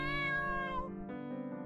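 A cat meows in the video game Nyakori's Rabbit Doll, one drawn-out tonal mewl followed by a shorter second call, close and fairly loud, with no talking over it.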